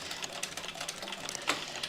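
Sewing machine running steadily through a strap seam with an eighth-inch seam allowance, a continuous rapid stitching whir with slight pulses and a sharper catch near the end as it backstitches, close and fairly quiet.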